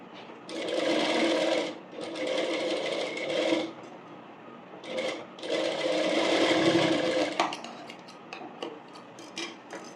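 A tailoring sewing machine stitches an umbrella frock in two loud, close runs of steady whirring, with a brief pause between them. Light handling and rustling sounds follow once the machine stops.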